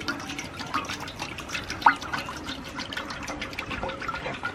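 Cooking oil poured outdoors for a Texas fish fry, a continuous close trickling and dripping stream with small splashes, loud and steady throughout.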